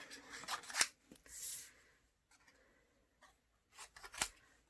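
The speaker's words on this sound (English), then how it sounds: "They're fantastic little scissors for getting in all the nooks and crannies when you're fussy cutting." Stampin' Up snips fussy cutting a card, several close, crisp scissor snips and clicks with soft paper rustle between them in a quiet room.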